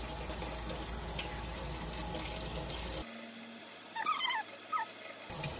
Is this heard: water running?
yes